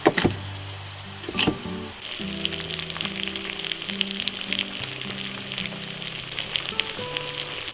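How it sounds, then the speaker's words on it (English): Duck meat fries in a pan at an off-grid cabin, a steady crackling sizzle with stirring scrapes and a sharp clatter near the start, while low droning tones run underneath throughout. "We stir the duck every 5 minutes."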